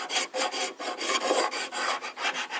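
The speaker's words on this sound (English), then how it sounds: "So we'll just do this here with the scraper" A hand scraper rasps across old finish on antique timber in rhythmic repeated strokes, about eleven close, even scrapes in quick succession with brief pauses between.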